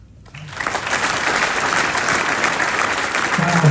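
Crowd applause at an outdoor statue unveiling for John Rudge, starting abruptly after a brief quiet moment and building into sustained, dense clapping that holds steady to the end.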